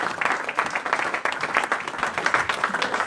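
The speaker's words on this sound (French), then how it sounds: "Acclamons pour la gloire du Seigneur." A church congregation applauds for the glory of the Lord, a dense, steady burst of many hands clapping together throughout, moderately loud and continuous with no clear pause.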